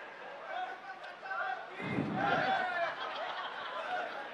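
Crowd at a poetry gathering calls out cheers and slogans (jaikare), a swelling burst of mixed voices near the middle over a background of murmur and chatter, moderately distant.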